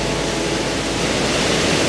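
Heavy water pouring over a waterfall and rushing through rapids, a steady, dense broadband roar that stays loud and unchanging throughout.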